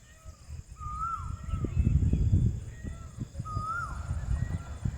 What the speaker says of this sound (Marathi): आता सूर्यास्त होत चालला आहे तरीसुद्धा पक्ष्यांचे आवाज खूप छान येत आहेत.